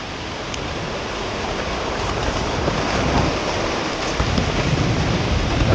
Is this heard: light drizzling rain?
yes